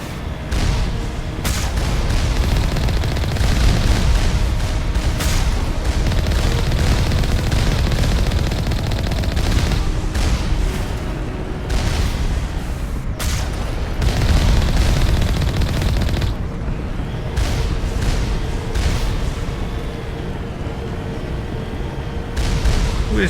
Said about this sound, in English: Who is shooting from over here? Oh, there's another turret this way.